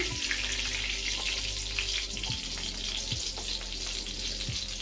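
Fresh oil heats and sizzles in an Indian kadai, a dense, even hiss over a low steady hum with occasional faint clinks. Close and unbroken, with no one speaking.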